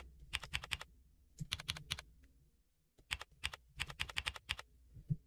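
Bursts of typing on a computer keyboard, quick clusters of crisp key clicks separated by short pauses, close and clear with no talking.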